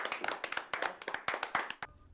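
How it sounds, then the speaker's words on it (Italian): A small group claps hands at an official induction ceremony in an Italian countryside setting, the sharp individual claps close and uneven for about two seconds before stopping. "Facciamo anche l'applauso."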